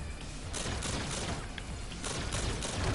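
Rapid automatic RPK machine gun fire in Call of Duty: Infinite Warfare, a dense continuous burst of shots with heavy booming low end sustained throughout.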